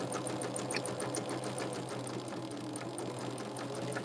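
A sewing machine runs steadily while stitching a quilt block, with a fast, even, continuous mechanical whir and needle tapping that stays close and consistent throughout, no voices.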